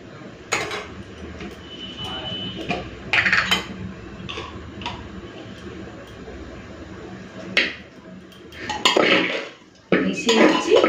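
Banana flower curry being stirred with ghee in a pressure cooker, sharp scraping clinks and taps of a spoon against the metal pot arriving in irregular bursts, close and fairly loud between quieter stretches.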